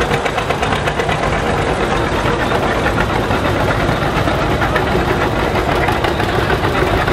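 A 1952 John Deere tractor engine runs close by at a county fair parade, a loud continuous rumbling chug with a steady pulsing beat and no talk.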